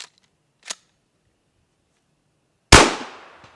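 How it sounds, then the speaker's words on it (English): A single loud shotgun blast from a short 18.5-inch riot barrel firing birdshot at a target about 12 feet away, sharp and close with a fading tail, after a faint click. "we're going to take our second shot"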